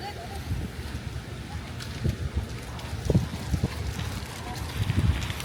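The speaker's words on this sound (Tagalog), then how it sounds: "Masyadong mahangin today." Gusty wind outdoors in Victoria buffets the microphone with low rumbling thumps, loud and uneven throughout, with a faint voice underneath.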